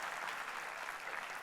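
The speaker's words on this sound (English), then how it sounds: "Yes, you can applaud to that." Audience applause at a university convocation ceremony, a dense steady wash of many hands clapping at once, sustained and fairly even throughout the short stretch with no voices on top.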